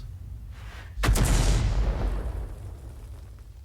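One heavy artillery shot booms in a World of Tanks–style tank game from self-propelled guns such as the SU-14-2 or SU-8, a loud close blast with a long rumbling decay.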